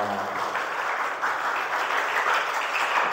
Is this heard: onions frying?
no